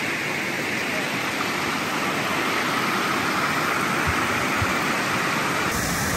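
Water rushes steadily over a low waterfall on a shallow river near Escanaba, Michigan, a broad constant roar, close and unbroken throughout with no talk.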